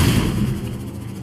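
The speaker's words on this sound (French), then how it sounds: "aussi, grenade répulsive, très drôle" A repulsor grenade going off in a video game, a single loud, close, booming explosion that rumbles and fades quickly, with no talk over it.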